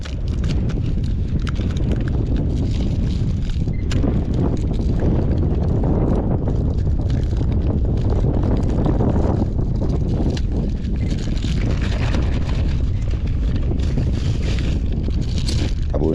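Wind blowing outdoors at a fishing spot, a loud, steady, rumbling roar buffeting the microphone throughout with no let-up and no talking.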